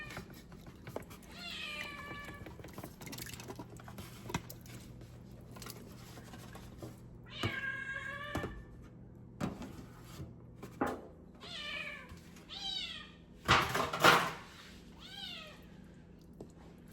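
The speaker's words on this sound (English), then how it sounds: "As I dodge the cat." A cat meows repeatedly in a kitchen while chicken is being cooked, with several clear, rising meows spread out over a steady low background hum, up close and without talk.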